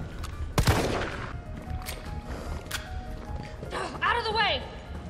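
Gunfire from Resident Evil 3 Remake, a sharp loud shot near the start followed by a few fainter bursts, with someone talking throughout and a whooping vocal sound near the end.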